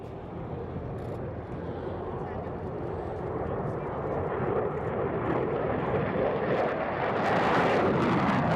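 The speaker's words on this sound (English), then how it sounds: "we see a demonstration of an F-22 crushing a high-speed vertical takeoff" An F-22 fighter jet roars through a high-speed vertical takeoff, a broad, steady engine rumble that swells louder toward the end, heard at a distance.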